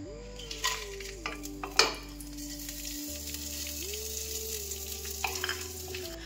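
Whole spices hit hot mustard oil in a wok: bay leaf, dried red chillies, cinnamon, cardamom and cumin, tempered for a Bengali veg dal. The sizzle is quiet and steady, with clinks of a stirring spoon against the pan.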